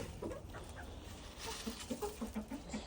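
Chickens cluck on an organic farm in winter, a run of soft, evenly spaced clucks close by, growing more regular toward the end over a quiet outdoor background.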